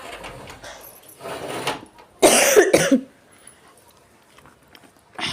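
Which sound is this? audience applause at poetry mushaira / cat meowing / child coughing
child coughing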